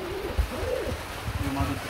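Racing pigeons cooing at a club loft, several soft low warbling coos rising and falling across the moment, with outdoor background noise and a faint murmur of voices.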